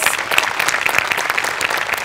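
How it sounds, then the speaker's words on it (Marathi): An audience applauds at a Marathi stage event, with steady, dense clapping that stays loud and close throughout and carries no speech. "प्रत्यक्ष नसलेल्या माणसांसाठी पण एकदा टाळ्या वाजल्या पाहिजे"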